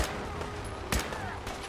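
Gunfire in a Fallout 4 firefight: one sharp, loud shot stands out near the middle over a steady bed of game noise, with a fainter crack early and late.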